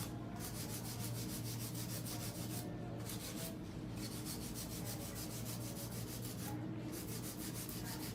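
A hand file smooths a long coffin-shaped fingernail with fast, steady back-and-forth rasping strokes, close and quiet, with brief pauses between runs.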